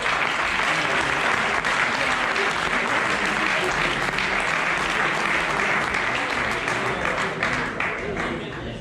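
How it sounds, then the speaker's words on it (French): Sustained applause from a conference audience at a trail running race welcome event, dense steady clapping filling the room for the full stretch, fading slightly at the end. "Je vous demande de l'applaudir"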